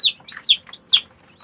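Chickens on a poultry farm let out a few shrill, high squawks in quick succession, close and loud, with short quiet gaps between the cries.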